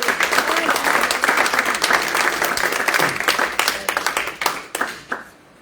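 A church congregation applauds together at a French-language worship service, a dense, steady burst of clapping that fills the room for several seconds before thinning out and stopping.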